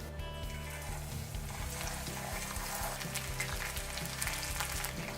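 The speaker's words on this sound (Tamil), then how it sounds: "இப்போ எண்ணெய் சூடாக இருக்குது, போட்டு பொரிச்சு எடுத்துடலாம்." Chicken pieces deep-frying in hot oil for chicken Manchurian, a steady close sizzle and crackle with bubbling spikes running the whole time, no talking over it.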